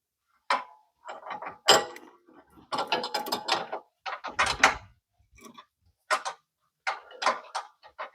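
A wrench ratchets on a bolt of the lower control arm of a 2011 Chevy Malibu during bushing repair, giving short bursts of close metallic clicking separated by brief pauses.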